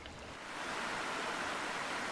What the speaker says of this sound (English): we can still hear those lapping waves.